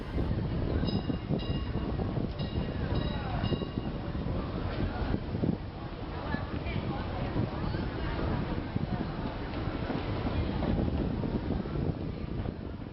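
A tram to North Point rumbles steadily along busy Chun Yeung Street, a street market in Hong Kong, with wind buffeting the microphone, brief bell-like tones near the start, and street noise throughout.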